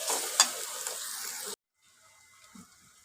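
Turmeric and ginger being stirred into an egg curry in a pan, a steady sizzling scrape for about a second and a half, then near silence with a faint clink.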